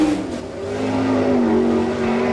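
A sprint car at an All Star Circuit of Champions race in Abbottstown, PA, screams through a timed qualifying lap, its engine holding a loud, steady high-pitched whine that bends slightly in pitch as it rounds the track.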